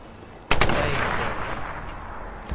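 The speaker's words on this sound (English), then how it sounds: "It was an explosion. It was a red barrel." In multiplayer Tomb Raider, a red barrel blows up with a sharp, loud blast and gunfire, then a long rumbling roar that slowly fades, with another smaller shot near the end.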